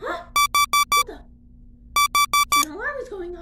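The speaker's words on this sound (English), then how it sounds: "An alarm is going off." Cartoon alarm in a Super Mario animated episode, sounding as two loud bursts of four rapid identical electronic beeps each, separated by a short pause, followed by a voice speaking.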